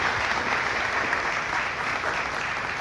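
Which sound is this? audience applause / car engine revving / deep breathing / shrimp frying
audience applause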